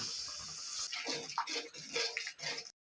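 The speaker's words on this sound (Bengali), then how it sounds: "মশলাটা কষাবার জন্য একটু পানি দিয়ে দিলাম" Water poured into spice paste frying in a pan with turmeric and salt for a chicken curry: a bubbling splash and hiss that swells and gurgles for under three seconds, then cuts off abruptly.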